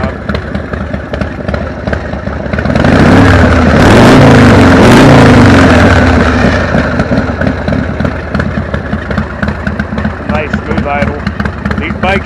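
A 1995 Harley-Davidson Dyna Super Glide with a rubber-mounted V-twin idles steadily close by, its loping rumble swelling briefly in the middle, while someone talks over it throughout.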